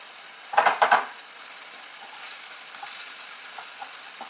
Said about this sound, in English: Those onions sizzling,